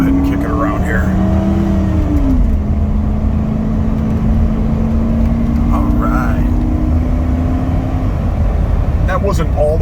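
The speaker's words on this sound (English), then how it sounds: "it does show you that the truck shifts as it should through the gears." A 1996 Ford F150 4x4 automatic pickup accelerating from inside the cab, its engine droning steadily and rising in pitch, then dropping as the transmission shifts up through the gears, loud and continuous throughout.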